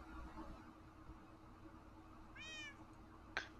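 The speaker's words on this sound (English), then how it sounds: "There are some cats around here sometimes." A single short wavering meow, faint and somewhat distant over low background rumble, followed by a brief sharp click.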